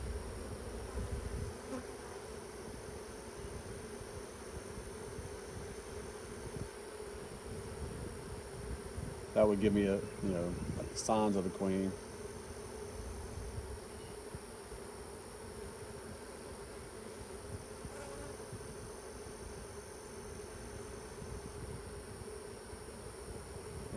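Honeybees buzzing over a hive frame in an apiary, a steady close drone throughout, with a short spell of rustling and handling in the middle and a person speaking briefly.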